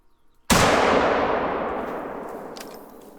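A single loud gunshot rings out in theHunter: Call of the Wild while shooting at a herd of wild boar in the MullerWald cornfields, a sharp crack followed by a long fading rolling echo.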